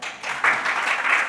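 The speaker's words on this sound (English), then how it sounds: "A round of applause for her." An audience at a Gauteng industry session gives a short burst of applause for a speaker from a special economic zone, with close, dense clapping swelling after a brief soft start.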